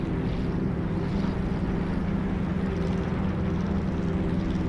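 The Xishan aircraft's engine droning steadily, a low, dense, continuous roar with a wind-like rush and no pauses.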